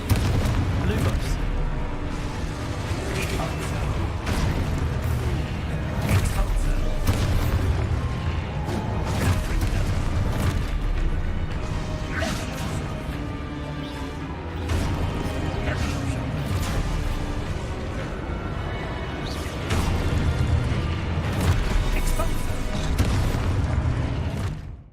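Confringo and Expulso spells in Hogwarts Legacy set off repeated heavy booms and bursts, one after another, under a constant rumble of combat while a voice is heard throughout.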